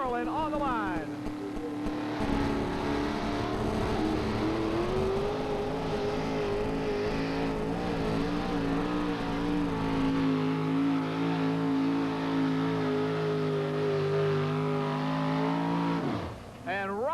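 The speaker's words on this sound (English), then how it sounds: "What a fine, outstanding run for that Chevrolet this afternoon." Chevrolet monster truck engine from a 1991 USHRA event at Bowling Green, roaring loud and sustained through a full run with harmonic revving, a brief throttle lift near the end, an announcer talking over it.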